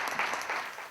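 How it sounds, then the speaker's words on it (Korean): A church congregation bursts into applause, a dense, steady wash of clapping filling the whole moment without pause. "박수 한번 쳐주세요"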